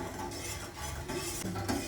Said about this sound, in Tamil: அடுப்பை ஆன் பண்ணிவிட்டு இப்போ நல்லா கிண்டி விடலாம்.